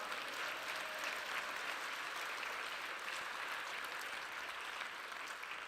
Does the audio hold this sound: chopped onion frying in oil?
no